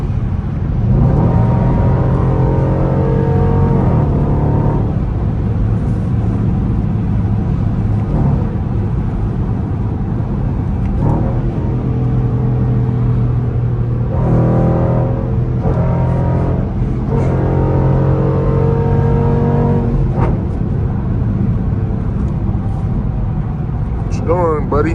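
A 2022 Dodge Durango R/T Tow N' Go on the road, heard from inside as a steady, loud low engine and road drone with shifting tonal whine, and voices speaking intermittently over it.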